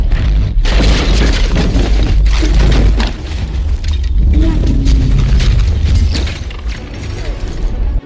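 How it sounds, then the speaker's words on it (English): Explosions in a Blender 3D animated scene, some at full speed and some slowed down, with objects colliding: dense, continuous booming bursts and rumbling impacts that stay loud and close throughout, with short pops and crackles layered over the roar. "Stuff here is exploding at full speed, and then it goes in slow motion"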